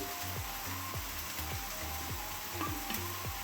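Coriander powder stirred into chicken curry frying in a pan, a soft, fairly faint sizzle with a quick repeating ticking rhythm running under it and no speech.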